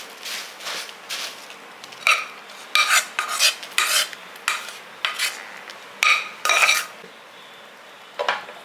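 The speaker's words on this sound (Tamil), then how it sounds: "இப்போ ஊற்றி நல்லா அப்படியே சூட்டோட கிளறி கொடுங்க." Metal spoon scraping and clinking against a pan while stirring a hot pori urundai mixture, in a quick irregular run of sharp scrapes and knocks, close and clear, with no talk.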